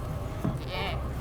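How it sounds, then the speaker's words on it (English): In a TV drama scene, a short bleat from a goat rises briefly above a steady low background hum. "Goats. Goats."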